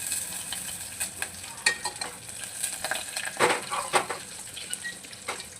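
Whole spices, mint and curry leaves frying in hot oil for chicken biryani, a steady close sizzle broken by repeated scraping stirs of a spoon in the pan, with no talking.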